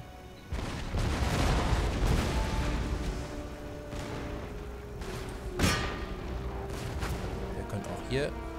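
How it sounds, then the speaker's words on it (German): Cannon and musket volleys from an Empire: Total War battle fire continuously, a dense crackling and booming barrage with one sharp, loud report standing out partway through. "Und wir schießen aber weiter auf die Truppen."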